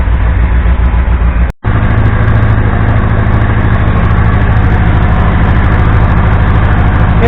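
Triumph Speed Four motorcycle engine idling steadily after starting, a loud, close, even throb that runs continuously apart from one brief dropout.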